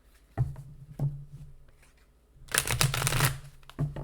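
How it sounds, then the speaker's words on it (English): Tarot cards handled and shuffled, starting with a few isolated soft taps and then a dense riffling burst midway, quiet and close. "I'm going to do another shuffle."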